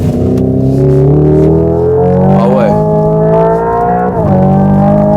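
A Hyundai Ioniq 5 N electric sports car accelerates hard, its synthetic engine note rising in pitch with simulated gear shifts and a small crackle on the lift, loud and close, as a voice remarks briefly.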